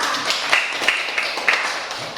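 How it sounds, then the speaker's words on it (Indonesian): Light, scattered clapping from a small classroom group applauding schoolmates, a few brief irregular claps over roughly two seconds, fairly close and modest in volume. "Tepuk tangan untuk kelompok A."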